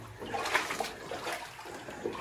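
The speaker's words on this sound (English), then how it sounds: "you can see right here how the water is flowing out of the mine" Water flows out of a flooded abandoned gold mine, a close, steady trickling and gurgling stream with small splashy bursts inside the tunnel, with no voices.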